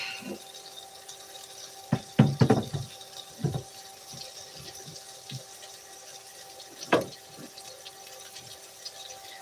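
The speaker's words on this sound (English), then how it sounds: "I'm gonna rinse this off." Kitchen tap running to rinse off a spill, a faint, steady trickle of water broken by a few brief splashes and clatters.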